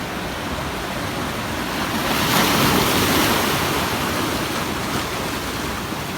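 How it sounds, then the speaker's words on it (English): Rough ocean surf at Abalone Cove roars as a continuous loud wash with wind buffeting the microphone, swelling slightly midway. "The next video shows how rough the waves are."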